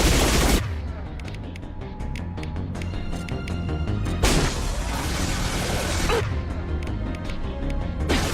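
Mass Effect 2 gunfire crackles in loud, sustained bursts with heavy impacts and sharp blasts, dense and continuous across the battle, punctuated by two big explosive hits.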